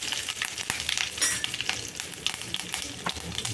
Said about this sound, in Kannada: ಎಣ್ಣೆ ಕೂಡ ಬಿಸಿಯಾಗಿದೆ ಫ್ರೆಂಡ್ಸ್. ಒಂದಿಷ್ಟು ಜೀರಿಗೆ ಸಾಸಿವೆನ ಹಾಕೋತಾ ಇದ್ದೀನಿ.